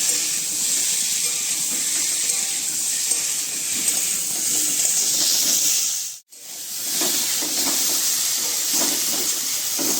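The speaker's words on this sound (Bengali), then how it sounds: "এবার আমি এই টমেটোগুলো দিয়ে দেবো দিয়ে একটু নাড়িয়ে চাড়িয়ে" Tomatoes go into a pan of frying mankochu (giant taro), giving a steady, fairly loud hiss and sizzle that runs throughout, with one brief dropout midway and no talking.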